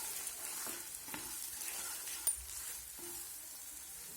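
Red chili powder and turmeric roasting in a hot pan for spinach kadhi, giving a steady soft sizzle with occasional stirring clinks, one a little louder, close and without talk.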